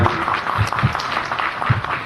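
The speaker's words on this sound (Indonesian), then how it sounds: "boleh tepuk tangan buat kami" An audience applauds at a talk about a library holding tens of thousands of books, moderate clapping with a few sharper claps, somewhat muffled, over a couple of seconds.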